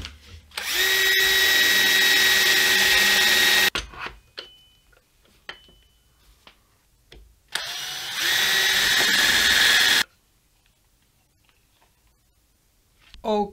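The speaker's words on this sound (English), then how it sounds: "I'm gonna drill a hole right there and right there" A power drill boring holes into a pickup winder, with two loud sustained bursts of whining motor separated by quiet gaps holding faint clicks and handling noises.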